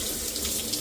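Running water pours and splashes over a K&N air filter soaked in race gas, a steady close rinse with no voices.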